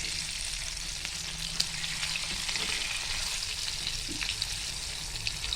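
Pieces of KFC-style chicken coated in cornflour fry in hot oil over lowered heat, making a continuous, even sizzle up close with occasional small pops and crackles.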